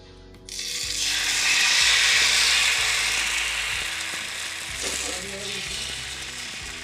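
Ghavne rice batter hits an oiled griddle and bursts into a loud, close hiss that slowly tapers off, while a faint, regular mechanical ticking runs underneath.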